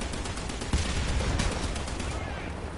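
Tank gunfire in the video game War Thunder, a dense loud burst of rapid shots with one sharper crack, filling the whole moment.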